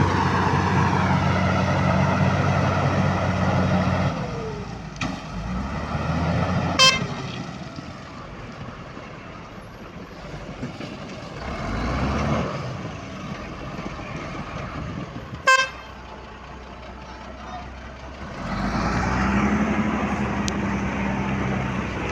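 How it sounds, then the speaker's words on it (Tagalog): A wheel loader works beside a dump truck while loading river sand, with a steady diesel engine drone that swells and fades, and a couple of sharp horn toots cutting through. "Ito po yung loader mga idol. At ito ay magkakarga sa ating dump truck mga idol."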